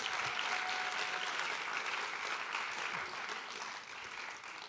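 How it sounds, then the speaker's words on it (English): Sustained applause fills a hall at a Purdue panel event, dense and even across many hands, easing slightly toward the end. "Let's give him another round of applause"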